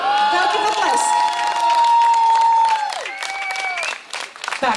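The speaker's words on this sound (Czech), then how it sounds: "Velký potlesk." Audience at a concert applauding a band on its 45th anniversary in Znojmo: dense, lively clapping with cheers and shouts from a crowd, loud and close, fading slightly toward the end.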